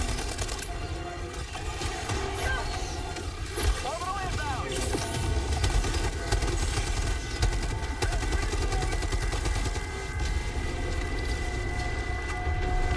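Orbital barrage explosions from Helldivers 2 rumble on without a break as a dense, roaring wash of blasts and gunfire, with a voice talking over the top.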